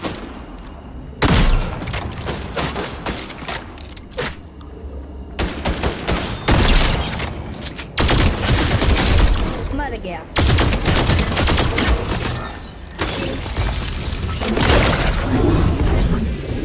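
Rapid bursts of automatic gunfire from shooting enemies in Fortnite, loud and repeated in clusters with heavy booming hits, several volleys broken by brief pauses.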